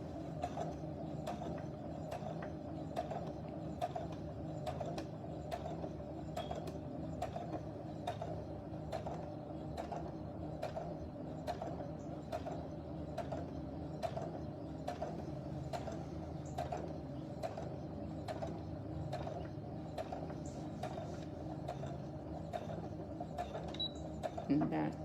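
A sewing machine stitching down elastic on a fabric face mask, a fast steady rhythm of needle strokes running nonstop at moderate volume under a low mechanical hum.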